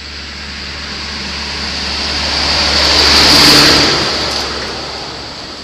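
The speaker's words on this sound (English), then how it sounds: "Wait, a tractor's coming." A tractor drives past on a road by a wood in Dorset, its engine noise swelling as it approaches, peaking midway, then fading as it moves off, with no voices.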